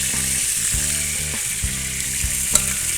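Pieces of hamour fish frying in hot oil until browned, a dense, steady crackling sizzle close up and loud, with faint pops and stirring knocks, no voices.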